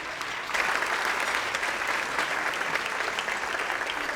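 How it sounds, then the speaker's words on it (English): An audience at a district state-of-the-district event breaks into warm, sustained applause, the clapping swelling after a brief start and holding steady, full and close throughout. "So let's give them a big round of applause."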